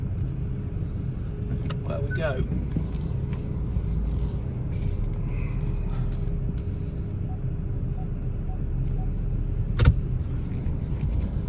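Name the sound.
car being driven and turned around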